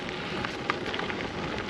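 Rain pours steadily during a wet gravel bike ride, making a dense, even hiss with no clear individual drops, moderately loud and unbroken.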